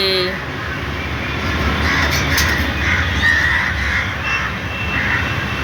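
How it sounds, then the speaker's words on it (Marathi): Crows circling outside a window in Pune caw repeatedly, a little distant, over a loud steady rumble like a passing aircraft, and a voice speaks over them. "किती कावळे फिरू राहिले बापरे"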